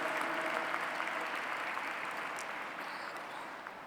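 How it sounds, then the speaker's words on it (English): An audience at an interfaith forum gathering in Pune, India claps in a broad, steady round of applause that slowly fades, heard alone with no talking. "A bigger round of applause"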